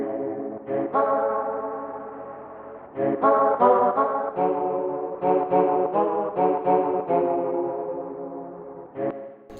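A car horn sample is played as a MIDI note pattern through an Ableton auto filter, giving a honking, tonal rhythm of short and held notes whose brightness shifts as the filter moves.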